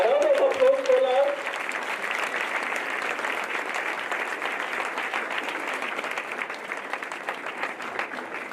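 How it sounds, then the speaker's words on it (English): Steady applause from a standing audience fills the hall at an annual education and leadership congress, a dense even patter of clapping that holds for several seconds, with a voice briefly audible over it at the start. "As we all stand up and give him a round of applause."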